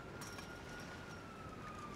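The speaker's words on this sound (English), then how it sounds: "I'm hearing some sirens." Faint, distant police sirens wail in GTA 5 roleplay, a thin steady tone drifting slightly in pitch over a constant low background rumble for about two seconds, with no talking.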